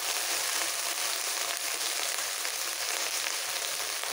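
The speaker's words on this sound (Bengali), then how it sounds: "ঢেঁড়স দেওয়ার পর একটু তেলের মধ্যে আগে মিক্স করে নেব" Okra frying in hot oil and being mixed for a potato curry gives a loud, dense, continuous sizzle up close, without pause.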